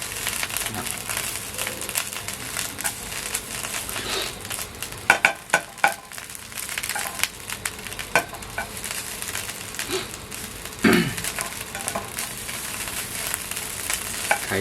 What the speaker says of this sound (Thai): ก็ผัดให้พริกแกงมันมีกลิ่นขึ้นมาก่อน